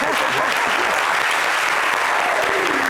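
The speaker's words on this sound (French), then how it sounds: "On applaudit pour le béret" A studio audience on a French variety show applauds a guest, a loud, dense and continuous burst of clapping with no talk over it.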